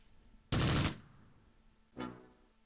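Machine gun fire in the WWII tactical game Close Combat, set on the Fontenay-Caen road in Normandy: one loud, harsh burst about half a second long, then a shorter, softer burst after a pause, with no talk.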